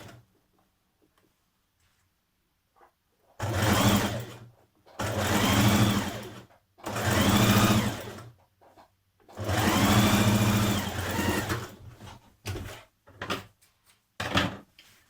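A sewing machine stitches a 1.5 cm seam on a summer jumpsuit. It comes in several close, loud bursts of rapid stitching of a few seconds each, with short pauses and quiet handling noises between them.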